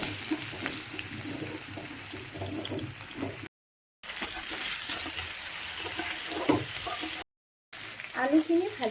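Onions fry in hot oil with cumin, dried chilli and whole garam masala for an Assamese-style chicken gravy, giving a steady loud sizzle with brief stirring scrapes and two short silent gaps.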